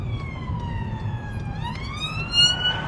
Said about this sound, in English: Oh no, it's an ambulance.